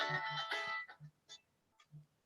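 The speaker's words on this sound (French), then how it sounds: "Mon fils qui téléphone." A phone rings with an incoming call, first a bright burst of melodic ringtone, then a few short, sparse electronic tones, close and fairly clear, with no talk.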